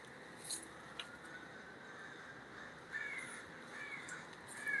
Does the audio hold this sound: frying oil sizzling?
no